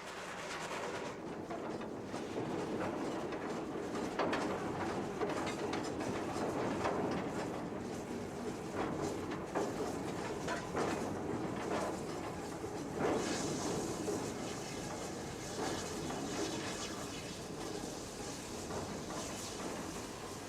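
GWR steam locomotive City of Truro runs on a British main line, heard as a steady distant rumble and rolling clatter that carries evenly throughout with no voices.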